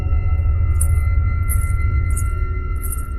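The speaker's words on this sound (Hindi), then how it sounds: "ये तो पायल की आवाज है, जैसे लग रहा है कि कोई औरत पायल पहनकर अंदर घूम रही है।" Bright, tinkling anklet bells of a woman walking indoors in a cartoon, jingling in four short bursts at a steady pace over a constant low hum and drone.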